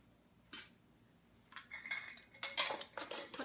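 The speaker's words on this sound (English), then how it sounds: "I'm going to add them into my mason jar. And you can just mush them down if you need to." Frozen mixed berries pressed and mushed down into a glass mason jar while making overnight oats, giving one brief clink followed by a cluster of close, rattling clinks and scrapes with no talking.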